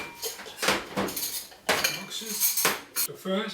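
A spoon clinks and scrapes against a bowl while mixing powdered sugar and water into icing for Christmas cookies, with rhythmic clattering strokes and brief talk in between.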